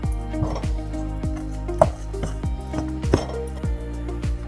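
Gram flour batter mixed by hand with a little water in a bowl while preparing banana flower and prawn chops, giving steady wet squelching with repeated clinks and taps against the bowl.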